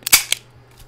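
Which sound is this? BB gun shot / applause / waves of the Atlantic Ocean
BB gun shot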